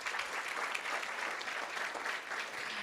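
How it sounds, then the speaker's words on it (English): Sustained applause from an audience at a school board meeting honoring two students, steady and dense throughout with no pauses. "Let's give Sophia and Brenham a huge round of applause."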